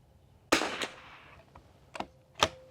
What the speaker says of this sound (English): Let's go ahead and shoot 10 more rounds.